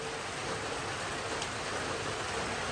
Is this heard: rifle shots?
no